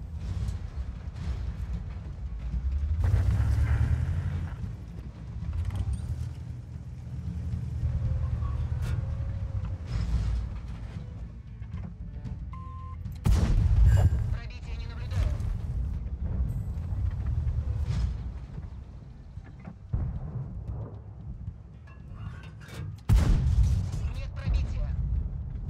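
Tank cannon shots in World of Tanks, several heavy booms scattered over a long stretch of battle noise with engine rumble, while someone talks over most of it.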